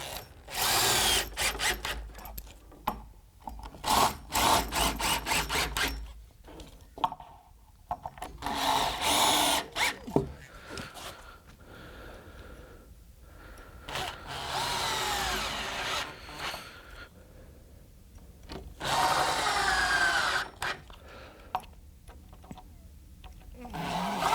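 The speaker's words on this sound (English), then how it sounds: "You can screw your sides in." Power drill driving screws into the sides of a wooden router table cabinet, with repeated whirring bursts of varying length, close and loud, separated by short pauses and handling clunks.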